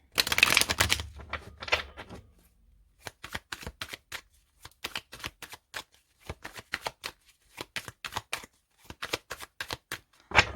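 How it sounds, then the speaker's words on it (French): Tarot cards being shuffled by hand: a dense riffle burst at the start, then a long run of crisp, evenly spaced card slaps and flicks close up, with no talking. "je vais bien mélanger mes cartes et après, je les prendrai une par une"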